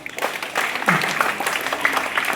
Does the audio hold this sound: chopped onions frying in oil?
no